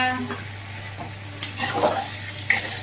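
Masala paste of tomato, ginger, garlic and chili fries in a pan with a steady low sizzle, broken by two sharp stirring scrapes against the metal, close and alone.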